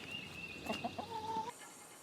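Backyard chickens cluck softly a few times in short bursts, fairly close, over faint outdoor ambience with a bird whistle in the background.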